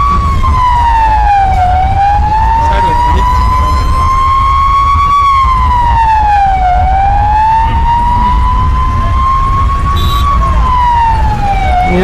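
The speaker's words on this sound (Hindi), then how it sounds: "जाम में जो है एम्बुलेंस फंस चुकी है" An ambulance siren wails continuously in rising and falling sweeps while the vehicle sits stuck in a roughly two-kilometre traffic jam during a Tiranga Yatra procession, loud and close over a dense rumble of traffic.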